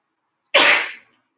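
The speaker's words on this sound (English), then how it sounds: "That was a serious sneeze." A single loud, sharp sneeze bursts out close to the microphone after a moment of silence, then quickly fades away.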